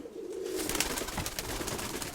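Pigeons coo softly and repeatedly, a low, rolling throaty call that carries on steadily for a couple of seconds at close range, with no talk.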